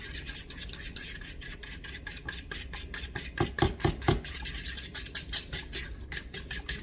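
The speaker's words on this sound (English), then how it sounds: "And stir it up just a little bit." A spoon stirring a scoop of sour cream into a thick yellow squash casserole mixture gives soft, repeated scraping and rubbing strokes in a quick, uneven rhythm, close and fairly quiet.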